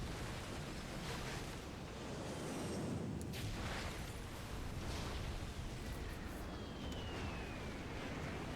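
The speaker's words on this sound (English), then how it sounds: "Oh, there's the airstrike." Airstrike explosion in the video game Crisis Core Final Fantasy VII: a sustained, loud, broad rumbling roar with low booming swells and debris-like crackle, lasting several seconds.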